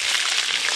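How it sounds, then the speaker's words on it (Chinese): Ginger and garlic hit a hot wok and crackle in a loud, steady, close sizzle that fills the brief moment with no voices. "姜蒜下锅"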